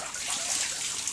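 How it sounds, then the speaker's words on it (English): Water from a watering can pours gently onto soil around a newly planted root in a greenhouse, a soft steady close trickle and splash without voices. "I'm going to take the watering can and water it just a little bit to get the dirt to settle around the root."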